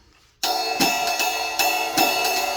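A drum kit plays a jazz waltz in 3/4, starting abruptly with cymbal wash over a steady triple pulse and accented hits recurring every beat cycle, close and fairly loud.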